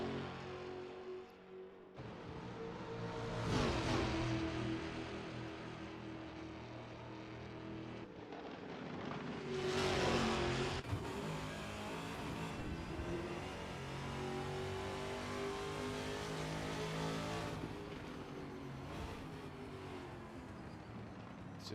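A Camaro race car from a racing video game revs hard around the Bathurst circuit in the GT Club TA2 Series, engine note climbing and dropping with gear changes, continuous and strong, with no talking.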